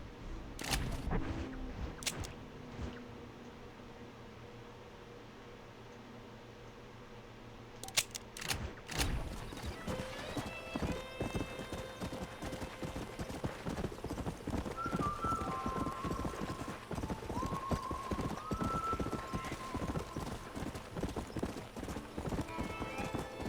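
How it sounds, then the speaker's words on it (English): Horse hooves clip-clop in a steady, close walking rhythm in the video game Red Dead Redemption, with occasional snorts, tack jingles and faint background game sounds and music. "A rare and agile horse, and it's all over the place in Red Dead Redemption 2."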